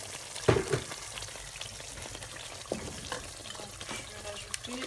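Water poured into hot oil in a cooking pot sets off a loud burst of sizzling and frying crackle, then settles into a steady fizzing hiss with scattered pops.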